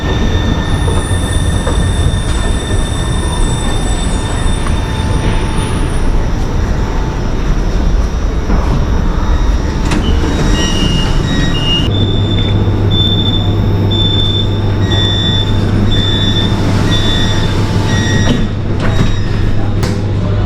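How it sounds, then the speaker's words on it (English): A driverless metro train rumbles loudly into an underground station in Italy, wheels squealing and screeching, with a steady low hum and high tonal whines as it slows. "So the train is here."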